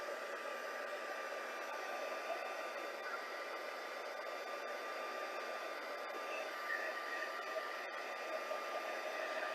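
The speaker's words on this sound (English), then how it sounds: "I'm going to use my heat tool" A heat tool blows a steady, hissing hot-air stream over wet watercolor stamping on watercolor paper, a constant even whoosh held close for the whole stretch with no talk.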